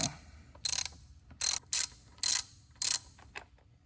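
A ratchet wrench loosens skid plate bolts on a Stark Varg electric motorcycle, with five or six short bursts of rapid clicking separated by pauses, close up and without talk.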